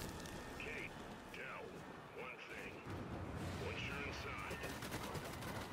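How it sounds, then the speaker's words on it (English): Ice shards in a Gears 5 ice storm pelt down like machine gun fire, making a dense, continuous rattling barrage under a player's voice. "The ice is like a machine gun."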